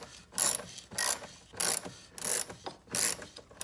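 A ratchet tool loosening screws on the intake plenum of a Porsche 911: several short bursts of quick ratcheting clicks, close and fairly quiet, separated by brief pauses.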